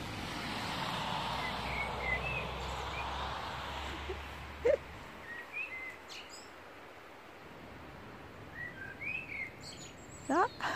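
Scattered chirps and short whistled calls from wild garden birds come at intervals over a low, steady outdoor hum, some close and sharp, others faint and distant.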